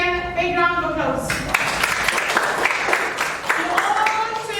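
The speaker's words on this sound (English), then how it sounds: "Everybody please again, big round of applause." A classroom breaks into applause at the teacher's prompt, with brisk, scattered clapping that follows a sung or spoken tonal phrase at the start and continues under faint voices.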